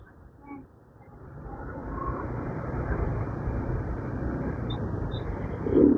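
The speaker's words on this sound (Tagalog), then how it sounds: "Ganyan yung truck namin pag mag-deliver ng hollow block." A wing van truck delivering hollow blocks rumbles along with a low, steady engine drone that builds gradually and holds, growing slightly louder at the end.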